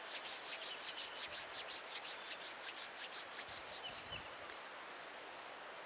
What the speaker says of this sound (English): Bring them together in Namaste and then rub the palms of the hands gently